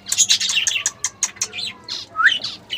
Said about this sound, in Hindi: ये दोस्तों माशाल्लाह हमारी रेड वेंटेड बुलबुल बाहर आ चुकी है।